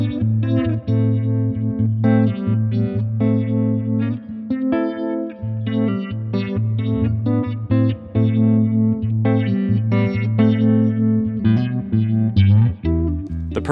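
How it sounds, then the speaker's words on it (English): Electric guitar played through a Fender Waylon Jennings signature phaser pedal in sweet mode, clean tone blended with phase-shifting swirl, steady chords and picked notes ringing continuously and loud, no talking. "turn on the sweet switch to jump right to the sweet spot of clean signal mixed with phase-shifting tones"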